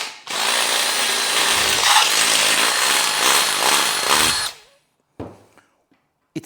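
A power drill enlarges a hole in hot metal for a rivet, whining loudly and steadily for about four seconds before spinning down, followed by a few brief clinks and handling knocks.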